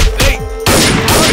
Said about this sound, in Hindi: वो गोली चला रहा